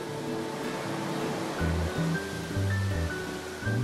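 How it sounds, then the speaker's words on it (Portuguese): Soft, steady sea surf and breeze at Ilha Grande, a faint continuous wash in the distance with some low rumbling swells and a few light tonal sounds over it. "Só escuto o mar, pássaro e o barulho do vento."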